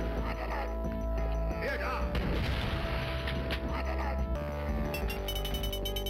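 Rocket explosions from enemy rocket launchers in the Operation Eisenfaust shooter game, a cluster of booming blasts and crashes over a steady game hum, with a voice speaking under it.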